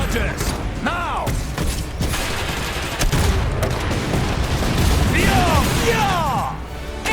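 Offensive charges detonating against an armored mech in the strategy game Iron Harvest, with heavy crashes and bursts amid clanking machinery and gunfire, loud and sustained, with shouted voices over it.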